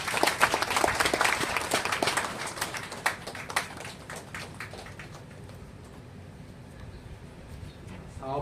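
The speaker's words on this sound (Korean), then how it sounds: "우리 박수로 맞아주시겠습니까?" Applause from a congregation at a church thanksgiving service and celebration, dense clapping at first that thins and fades over several seconds to scattered claps and low room noise.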